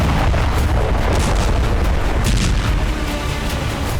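A massive bomb explosion booms as a loud, sustained, rumbling roar that fills the whole stretch without letting up, deep and overpowering, with no voices.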